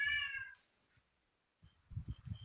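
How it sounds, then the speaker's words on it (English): A house cat gives one clear, high meow up close, then falls quiet; low rumbling, thumping noise follows a second later. "Please come take this cat."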